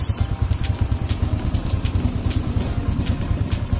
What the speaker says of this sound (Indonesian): Halus suara mesinnya, jadi beda sekali dengan mesin Cina ya.